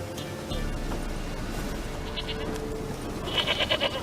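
A goat in an RPG video game bleats several times in quick succession near the end, preceded by quieter clattering game sounds.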